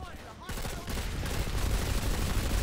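Rapid in-game gunfire from Planetside 2, shots fired in quick succession at an enemy player's head, dense and continuous after a brief quieter start, with some voice chatter mixed in.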